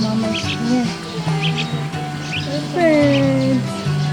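Baby birds in a nest in a front yard chirping in short high bursts, close by, while people talk over them.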